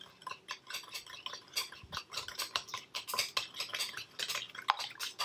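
Chopsticks whisk egg yolks in a bowl, giving quick, rhythmic clicking and tapping against the sides. The beats come in a fast, uneven patter at close range and moderate loudness, with no voices.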